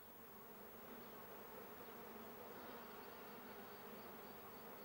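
Honey bees buzzing at a hive, a dense, continuous drone of many insects, steady and faint with no pauses.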